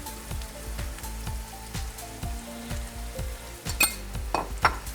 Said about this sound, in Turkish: doğranmış küp domatesi de kıymamı ekliyorum. Şöyle karıştıracağım yine.